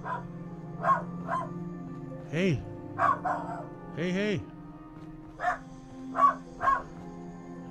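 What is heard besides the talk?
dog barking in the background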